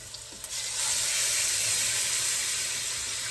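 Meat sears in a pan of olive oil for a crockpot barbecue, a loud, steady frying sizzle and hiss that swells after a brief clink and then holds evenly.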